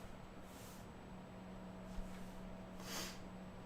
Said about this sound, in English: Forgive my sniffles, my allergies are killing me